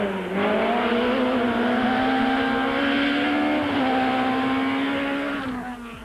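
A Castrol Toyota rally car at a 2006 Volkswagen rally drives hard, its engine holding a loud, sustained roar with slight pitch rises and dips over several seconds, fading a little at the end, with no talk.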